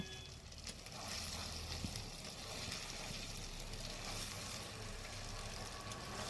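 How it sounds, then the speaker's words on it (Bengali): Paneer, potato, carrot and soybean frying in a spice masala, a low steady sizzle with faint stirring, quiet and continuous without talk. "এবারে মশলার সাথে এগুলো কিছুক্ষণ ধরে আমি ভালো করে কষে নেব।"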